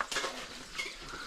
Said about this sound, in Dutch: Hier wordt de afwas gedaan.